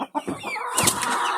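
Native chickens feeding inside their cage keep up a busy run of close, overlapping clucks and short calls with no break.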